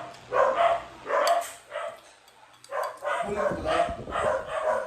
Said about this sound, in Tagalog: Napakaingay ng aming mga aso.